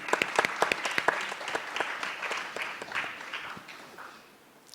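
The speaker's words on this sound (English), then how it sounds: "So I calls for an applause from all of you, please." Audience applause at a foundation leadership event, a dense run of many hands clapping that starts strong with sharp individual claps and slowly thins and fades over several seconds, with no talking.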